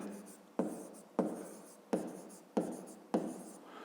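Pen or chalk writing out a fifth-grade math solution, five short scratching strokes in an even rhythm, close and clear with no talk.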